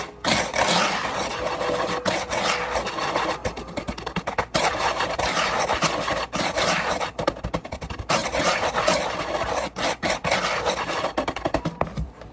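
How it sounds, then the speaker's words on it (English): Dry ingredients with half a teaspoon of salt whisked briskly in a bowl for a fruit tart crust, a steady close scraping rasp with rhythmic strokes and brief pauses, no talking. "I'm gonna whisk this all together"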